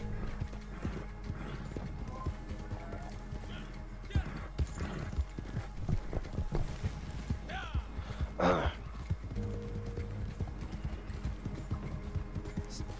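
Horse hooves clip-clop in a steady rhythm in the Red Dead Redemption Online video game, with a whinny partway through. The sound is mid-distance and moderately loud beneath game ambience and occasional voices.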